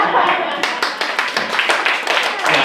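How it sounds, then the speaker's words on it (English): A small live-show audience claps steadily and close by, separate hand claps overlapping in a brisk, continuous patter. "Okay, I guess we should keep that applause going a little longer."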